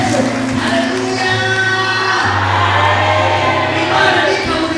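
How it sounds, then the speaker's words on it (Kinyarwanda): Women in a church gathering raise impundu, a loud sustained trilling ululation with overlapping high voices and cheering, filling the space close and bright throughout. "Ababyeyi muvuze impundu tuyishimire"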